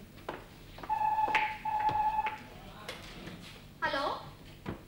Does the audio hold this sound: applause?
no